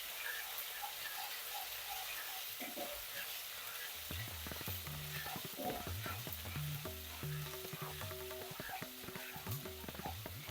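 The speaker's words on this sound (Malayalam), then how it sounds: "അതിനകത്തൊരു 1 ടീസ്പൂൺ ജിഞ്ചർ ഗാർലിക് പേസ്റ്റ് ഇട്ട് കൊടുക്കേ" Ginger garlic paste sizzling in a pan, a faint steady frying hiss joined midway by denser crackles and scraping stirs that continue to the end, with no voices over it.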